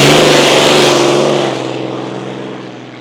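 An Aussie Connection race hydroplane at East Coast practice for the E C Griffith Cup drones past loud and near, its low-revving engine roaring steadily before fading off as it moves away.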